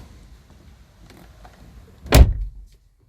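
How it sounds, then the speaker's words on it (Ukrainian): Car door on a Ford opens with a single sharp clunk of the latch after near silence, ringing out briefly. "відкрити двері"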